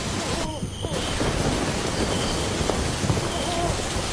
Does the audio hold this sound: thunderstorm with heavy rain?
yes